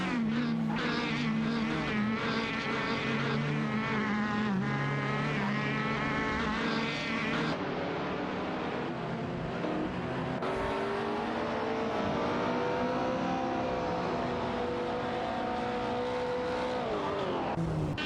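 Racing-game engines of a Porsche 911 RS 2.7 and a Ford Mustang GT roar loudly and continuously, with pitch sweeping up and down through gear changes and several cars mixing together, with no talking.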